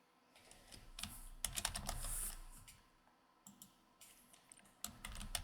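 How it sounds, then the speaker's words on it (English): Someone types label descriptions into spreadsheet columns on a computer keyboard, producing bursts of quick, light key clicks separated by short pauses, close up and faint with no talking. "The first thing you'd want to do is type in the label descriptions for each of the columns."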